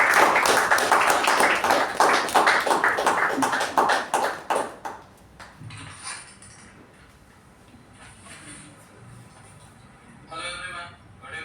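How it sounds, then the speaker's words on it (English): An audience at a Toastmasters club meeting applauds the Master of Ceremonies, dense rapid clapping for about five seconds that thins into scattered individual claps and fades, leaving quiet room tone with faint stray sounds. "With a thunderous round of applause, please give it up for our Master of Ceremonies"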